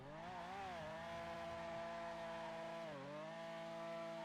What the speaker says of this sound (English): God, the engine sound.